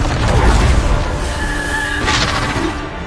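A Bombarda spell blast in Hogwarts Legacy, a loud close boom with a deep rumbling body that decays over a few seconds, followed by a brighter burst of noise.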